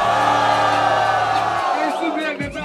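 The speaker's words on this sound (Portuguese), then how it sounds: "Faz barulho pra batalha." A crowd at a Brazilian freestyle rap battle whoops and shouts loudly in a dense roar, with a voice calling out over it.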